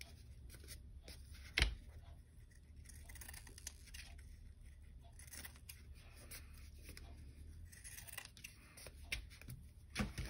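Scissors cutting through paper craft material for an altered index card project, a soft scratchy snipping texture heard close and fairly quiet, with one sharper snap early on and no talking.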